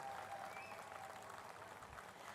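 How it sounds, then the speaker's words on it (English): Audience applause at a design institute's convocation ceremony in Ahmedabad, a steady, fairly faint and distant wash of clapping that carries on evenly throughout. "You actually deserve a bigger round of applause."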